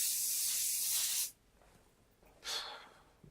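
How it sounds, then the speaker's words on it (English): Hairspray hisses from an aerosol can onto hair in two close bursts, a long spray followed by a shorter one after a brief pause. "And what I usually do, upside down, and do it the other way, and just lots and lots of hairspray."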